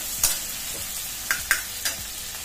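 Onion and tomato frying in a pan while a utensil stirs them: a soft continuous sizzle runs throughout, broken by four sharp scraping clacks spaced unevenly, each one close and distinct, with no talking.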